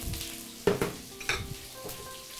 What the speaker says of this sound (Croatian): na zagrijano ulje dodajemo patlidžan, luk,